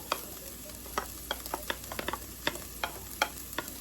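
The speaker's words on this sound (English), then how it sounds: "And keep stirring this because you don't want it to burn." Bell peppers and red pepper fry in a pan for turkey chili while a spoon stirs them, giving a steady sizzle broken by a dozen sharp scraping knocks at an irregular pace, close and with no voices.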